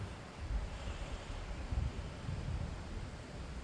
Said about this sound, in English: it's really windy and that's not helping our cause